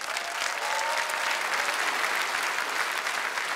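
A studio audience at a comedy show applauds as a performer is called up, dense, steady clapping with a lively crowd texture throughout.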